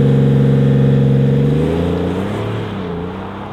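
A 2024 BMW X5 30d diesel SUV accelerates with a loud, close engine drone that rises steadily in pitch and then eases off slightly as it pulls away, no speech.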